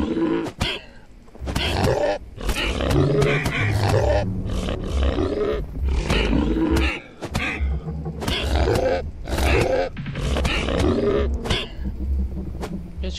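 A wolf in the video game The Wild Eight growls and roars in a long series of harsh, rough bursts, loud and close, repeating with short gaps over about thirteen seconds.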